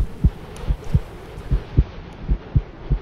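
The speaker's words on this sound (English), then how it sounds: "Why do I hear a heartbeat?" A steady heartbeat sound effect from the horror video game From the Darkness thumps in low, evenly spaced double beats, about two per second, over a faint background hum.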